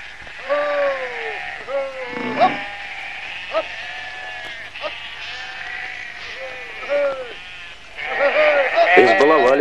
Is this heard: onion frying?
no